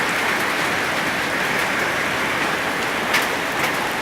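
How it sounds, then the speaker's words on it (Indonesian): Hail falls during a hailstorm in Lebakbarang, Central Java, making a dense, steady, loud hiss of pelting ice that continues without a break and has no talk over it. "Hujan es, Wan."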